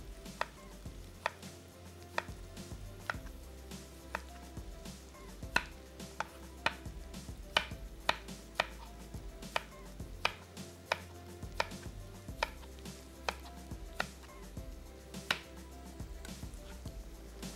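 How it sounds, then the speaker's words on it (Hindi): A knife slices firm, skin-on tomatoes into rings on a board, giving a long run of sharp, irregularly spaced chopping taps over a low steady background, with no talking. "यहाँ ले लेते हैं 2 अदद टमाटर विद स्किन, यानी कि थोड़े से सख्त टमाटर, और इसके हमने गोल रिंग काट लेने हैं"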